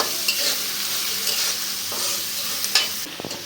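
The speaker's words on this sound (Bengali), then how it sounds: "এখন রসুন পেঁয়াজ কাঁচামরিচ তেলের উপরে একটু ভাজতে নেব" Garlic, onion and green chili fry in hot oil with a constant close sizzle, broken by occasional stirring scrapes and a brief utensil clatter at the end.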